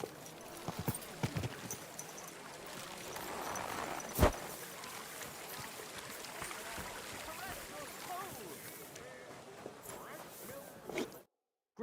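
Horse hooves clip-clopping at a walk in the video game Kingdom Come: Deliverance II, soft irregular thuds close by amid rustling ambience, with a sharp knock midway before the sound cuts out.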